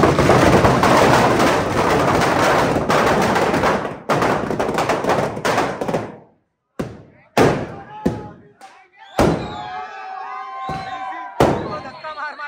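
Firecrackers packed inside a burning Ravan effigy at a Dussehra celebration erupt in a dense, loud crackling barrage for several seconds. Scattered sharp bangs follow and ring out against the open air, with people talking around them.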